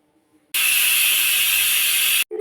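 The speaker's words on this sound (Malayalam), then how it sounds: "കുക്കർ 2 തവണ നിലവിളിച്ചപ്പോൾ ഞാൻ പെട്ടെന്ന് ഒന്നങ്ങ് ഇറക്കി വെച്ചു" A pressure cooker on the stove gives one loud, steady, high-pitched steam whistle lasting under two seconds and then cuts off abruptly, while crab curry with pepper and green chillies cooks inside.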